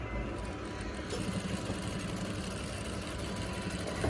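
A sewing machine stitching waistcoat fabric, a steady low mechanical whir with fast, even rhythmic chatter, running continuously at moderate volume without pause.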